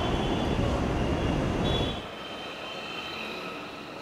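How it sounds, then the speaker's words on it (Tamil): A Chennai Metro train hums and rumbles loudly for about two seconds, then drops to a quieter steady drone, with a faint high whine running throughout. "நாம் இப்போது இந்த ரயில் பயணத்தின் மெட்ரோ ரயில் பயணத்தின் சொகுசை பார்க்க இருக்கின்றோம்."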